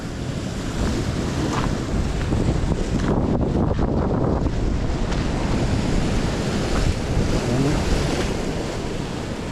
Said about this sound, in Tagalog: kahit malalaki ang alon.